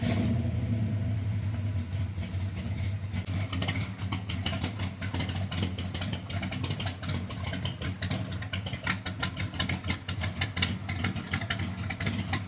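A 1955 Chevy Tri Five barn find V8 with a sizable cam, running close up with a lumpy idle and repeated rough throttle blips over a steady low rumble, no talking.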